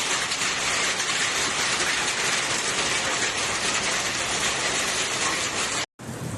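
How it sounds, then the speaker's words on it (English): Hail pounds down during a storm in Hermosillo, Sonora, in a dense, steady, loud roar of impacts that runs unbroken, then cuts out briefly near the end. "The storm brought an unprecedented amount of hail of the typically arid region"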